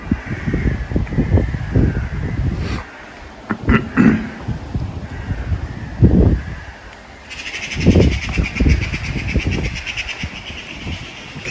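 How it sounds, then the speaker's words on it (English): Birds chirp in the background at dawn by a bridge on the Cambridge University grounds, faint twitters scattered over closer footsteps and street noise, with a brief passing whoosh. "You can hear the birds in the background chirping away."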